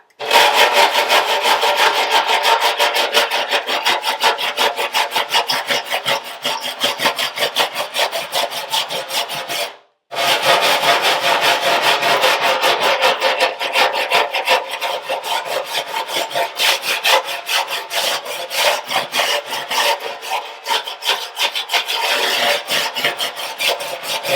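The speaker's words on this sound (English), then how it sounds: "Let me just get the wire brush and clean this off." Rapid rhythmic scraping of a wire brush against metal, loud and close, continuing steadily with one brief pause near the middle.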